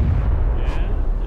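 Grenade blasts in PlayerUnknown's Battlegrounds, a dense low rumbling boom that fills the whole short moment, loud and close with a rolling, thudding body and no clear separate hits.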